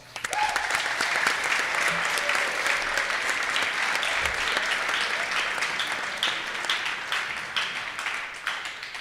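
A school assembly crowd bursts into loud, sustained applause for the senior class after a hockey state championship, dense clapping filling the room and tapering slightly toward the end.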